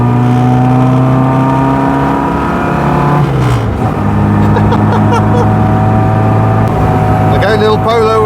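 An Austin A35 van's engine labours uphill with a steady, droning, close-up hum inside the cab, dipping briefly as the load shifts before settling back into an even pitch.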